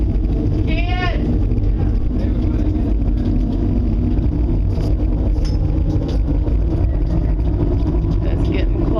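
Strong storm wind roars and buffets the microphone in a steady, loud rush, with a brief whistling sweep and scattered clatter over the top.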